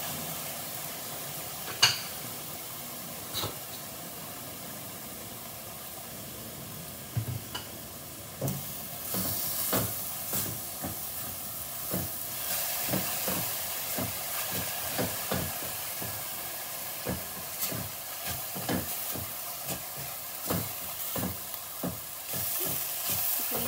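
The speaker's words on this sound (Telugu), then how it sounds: "గార్లిక్ అండి, వెల్లుల్లిపాయ. పచ్చి వాసన వెళ్ళిందాక ఫ్రై చేసుకుని" Garlic frying in a pan for soya granule keema, a quiet steady sizzle broken by frequent spatula scrapes and taps against the pan, growing busier as stirring picks up.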